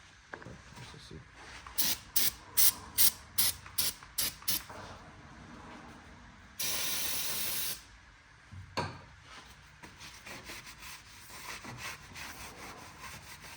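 Cleaner sprays onto a car brake rotor on a Honda Element with Brembo calipers in one sustained hiss lasting about a second, preceded by a run of short rubbing or scrubbing strokes, all fairly close.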